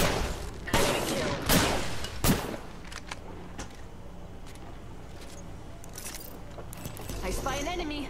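Rapid bursts of automatic gunfire from an Apex Legends match, with sharp loud volleys early on and continuing shots and game effects under overlapping voice callouts.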